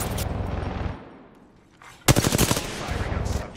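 Bursts of automatic gunfire in Apex Legends from the character Caustic, loud close rapid volleys at the start and again after a brief quiet gap, with a sharp burst resuming near the end.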